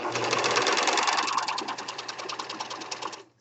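A serger sewing machine stitches along a very narrow seam allowance in fabric, a fast, even mechanical whirring and chattering, close and moderately loud, slowing and stopping at the end.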